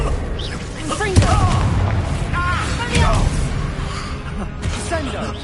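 Confringo blasting-spell impacts in the Hogwarts Legacy video game, booming explosive thuds around the one- and three-second marks amid game sound effects, with a voice gasping and reacting between the blasts.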